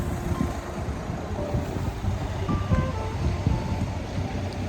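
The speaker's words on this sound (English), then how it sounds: "And there you've got the waves coming in." Ocean waves roll in near a seaside tea shop, a steady broadband wash of surf mixed with low rumbling, continuous and fairly loud for the whole stretch.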